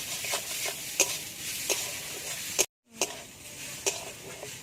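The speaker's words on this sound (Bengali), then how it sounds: "নারকেল কোড়া ভেজে নিতে হবে হালকা" Grated coconut sizzles and crackles steadily in a hot pan, with periodic scraping stirs and a brief silent gap partway through.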